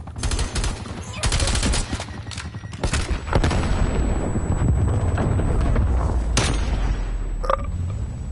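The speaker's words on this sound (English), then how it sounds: "Flashbang going out." A flashbang grenade goes off in a military shooter amid heavy gunfire, with a loud burst followed by a sustained high ringing tone. Bursts of rapid shots and booms continue underneath.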